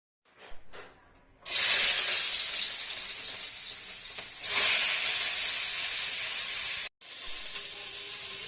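A pressure cooker boiling mung dal lets out a loud, steady steam hiss after a few soft clicks, swelling again midway, cutting off briefly, then resuming close by.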